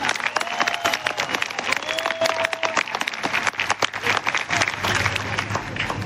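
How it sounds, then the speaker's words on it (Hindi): A crowd claps steadily in sustained applause at an indoor company training session, fairly close, with a few voices audible underneath. "एक बार जोरदार ताली बजाकर उनको स्वागत करो"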